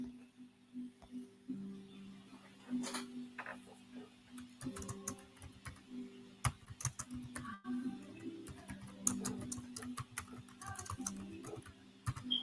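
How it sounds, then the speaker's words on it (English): Rapid, irregular clicking of fingers typing on a computer keyboard, close and fairly quiet, with bursts of keystrokes and short pauses continuing throughout, no voices. "I'm just typing over here."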